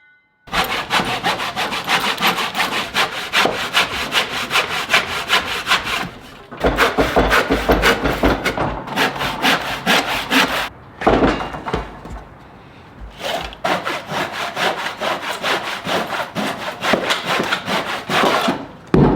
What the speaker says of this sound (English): Just wanted to start it with the handsaw because this is not even.